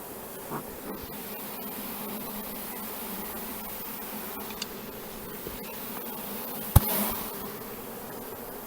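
A continuous hum of escaping honeybees buzzing around, moderately close, with a brief sharp click partway through.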